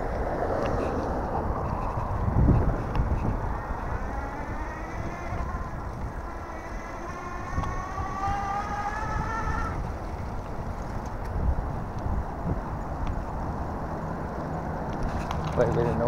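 Steady traffic roar rises from a six-lane expressway beside a back alley, heard from a moving homemade dual-freewheel e-bike. Wind buffets the microphone throughout, with passing vehicle whines and someone talking over the continuous noise.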